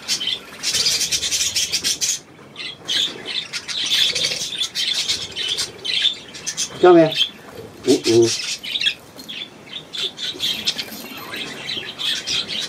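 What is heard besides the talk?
small gull calling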